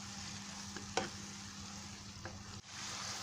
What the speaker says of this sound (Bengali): আমি বেশ কিছুক্ষণ এই মশলাটাকে কষিয়ে নিয়েছি